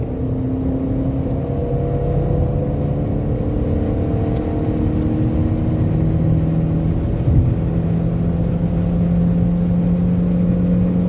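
A Chevrolet Cruze 1.4 turbo accelerates hard on the road, its engine note climbing in a sustained, loud rumble and whir from start to finish.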